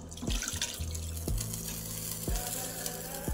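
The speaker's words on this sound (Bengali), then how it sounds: "প্রেশার কুকারের জলটাও দিয়ে দেবো।" Water splashes and gurgles steadily as it is poured into a pressure cooker in a home kitchen. Close, bubbling trickles are broken by a few brief clinks.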